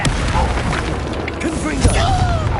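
Expulso blasting spell from the Hogwarts Legacy video game, a loud booming burst of magical force with crackling debris, surrounded by dense game battle sounds and effects.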